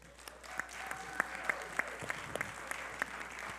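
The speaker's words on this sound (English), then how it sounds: "I would like to give a round of applause to the" Scattered clapping from a modest crowd at a church service, individual claps distinct and irregular, moderately faint and steady throughout.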